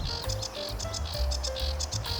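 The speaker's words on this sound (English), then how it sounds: "there's a sedge warbler singing its heart out" A sedge warbler sings a busy, scratchy stream of repeated chirps and trills, close and fairly loud, with no one talking.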